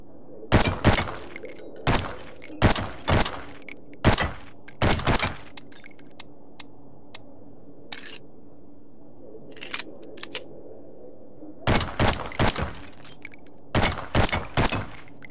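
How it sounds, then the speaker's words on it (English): Pistol shots in a SWAT 4 failure drill, fired in tight clusters of sharp, loud reports with brief pauses between groups, a few isolated single shots in the middle. "That's when you take 2 shots at the body and then 1 at the head."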